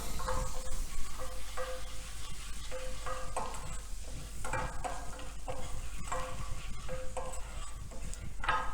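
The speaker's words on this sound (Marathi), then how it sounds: "आपलं बटर गरम झालं की त्यामध्ये आपल्याला लसूण टाकायचं आहे लसूण छान भाजून घ्यायचं आहे" Garlic sizzling in hot butter in a pan, a steady frying hiss broken by repeated stirring scrapes, close and moderately loud with no talking.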